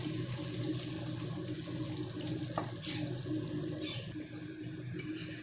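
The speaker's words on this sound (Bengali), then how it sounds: "তেল গরম হয়ে গেছে, তেলের উপর দিয়ে দিচ্ছি অল্প নুন, দিয়ে সবার আগে আলুটাকে আমি ভেজে নেব।" Potatoes frying in hot salted oil in a pan, a steady close sizzle and hiss running throughout with small crackles, no talking.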